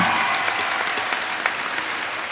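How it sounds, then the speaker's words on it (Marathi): An audience at a comic devotional kirtan performance claps together in sustained, dense applause that stays even and fairly loud for the whole stretch. "टाळ्या"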